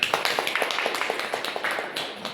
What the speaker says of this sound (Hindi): इस प्रोडक्ट इतना बड़ा काम है, जोरदार ताली बजाइए